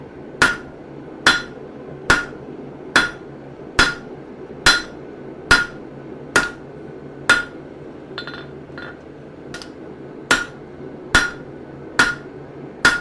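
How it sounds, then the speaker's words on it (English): Hammer forging a steel gardening trowel blade on an anvil: a steady series of about fifteen sharp, ringing metallic blows at an even, unhurried rhythm, close and loud, with a brief lighter clinking in the middle. "Now we're going to go back and start forging again."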